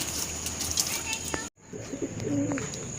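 Pigeons cooing and calling inside a small loft under construction, a steady soft murmur of several birds with a brief dropout midway, light chirps and background voices mixed in.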